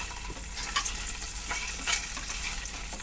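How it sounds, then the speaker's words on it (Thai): Sausages fry in oil inside an Olayks 2L 700W stainless steel 304 electric multi-cooker pot, a steady soft sizzle and crackle throughout with a few small pops. "ลองทอดไส้กรอกนะครับ"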